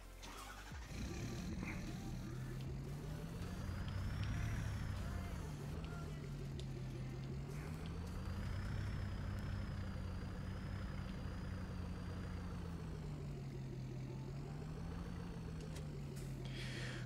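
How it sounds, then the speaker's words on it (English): A tractor engine runs at idle in Farming Simulator 22, a low steady rumble that rises and falls slightly in pitch throughout, starting after a brief quiet moment. "let me turn the engine off"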